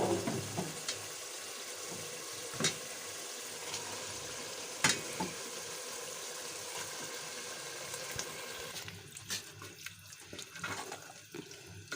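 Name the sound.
mustard greens (saag) added and stirred into frying masala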